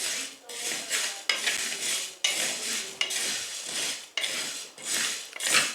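Sprouted grains dry roasting in a pan on a low flame as a utensil keeps stirring them, giving repeated rhythmic scraping and rattling strokes, close and fairly quiet, about one per second.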